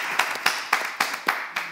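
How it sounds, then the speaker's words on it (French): Sparse, rhythmic clapping from a small audience, about six evenly spaced claps standing out over a light background patter at a moderate distance. "Est-ce qu'on peut juste applaudir?"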